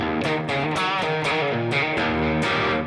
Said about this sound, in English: if you're playing a riff in E like that